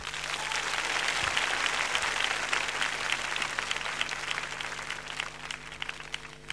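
A concert audience at the My Days show applauds for the band, a dense, loud, sustained wash of clapping that fades gradually toward the end.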